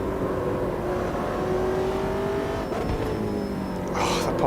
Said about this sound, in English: the popping on, banging on the overrun